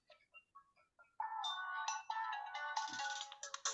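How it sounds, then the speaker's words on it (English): Phone ringtone for an incoming call, a few soft melodic beeps followed by a louder, bright electronic ringing tune that plays on continuously, with no talking. "I've got a phone call coming in."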